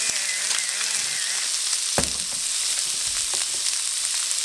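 Chicken and vegetables stir-frying in a hot pan, a constant bright sizzle broken by a few scrapes and stirring knocks, close and without talk.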